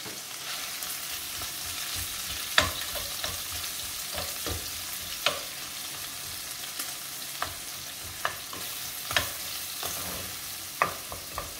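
Meat and garlic fry in a pan while being stirred, part of making braised fried cabbage. A steady close sizzle runs throughout, broken by sharp scraping clicks from the stirring at irregular intervals, with no talking.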